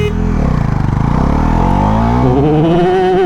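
A Bajaj Pulsar NS400Z 400cc motorcycle accelerating hard in first gear, its loud engine note climbing steadily in pitch with a pulsing exhaust, heard up close without talk.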